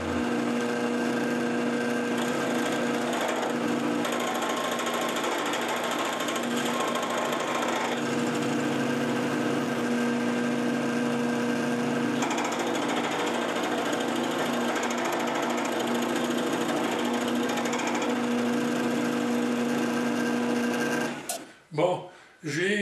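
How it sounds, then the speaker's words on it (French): A router bit skims the surfaces of sawn wood pieces in a steady, loud, droning whine that runs continuously, then cuts out near the end, leaving a few clunks. "Je veux que ça soit beau. Fait que je vais juste venir licher la surface avec la fraise pour les"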